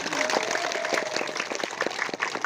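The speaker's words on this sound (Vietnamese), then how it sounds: "Chúng ta cùng vỗ tay chúc mừng nhau." Applause at a Vietnamese student celebration with dancing: dense, steady clapping from a crowd fills the whole stretch at moderate loudness, with a faint tonal whistle-like line early on.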